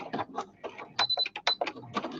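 A sewing machine runs a straight stitch on a fabric craft piece, giving quick, clattering mechanical bursts in short, uneven runs, close and fairly quiet, with no talking.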